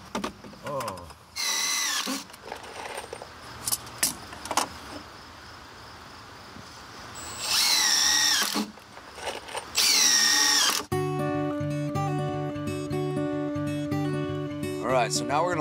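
A power drill drives screws into wooden boards on a wood-fired hot tub build, giving a few separate rising whirring bursts close by, with quieter gaps between them and a steady tonal background near the end.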